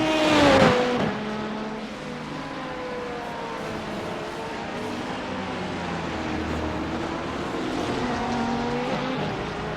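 GT3 race cars and an LMP2 prototype run nose to tail in the iRacing sim during an IMSA race, engines droning steadily with shifting pitch after a loud revving burst at the start.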